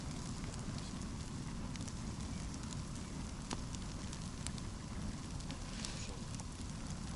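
A large campfire about two metres high, built on a cold night during a fishing trip, crackles and pops steadily at close range with scattered sharp snaps over a constant low rumble.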